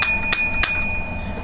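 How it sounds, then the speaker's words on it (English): Bright bell rings sound in quick succession, three sharp metallic strikes close together near the start, each leaving a sustained shimmering tone that fades through the rest of the clip, with no talking. "I'm going to give you 7 bells."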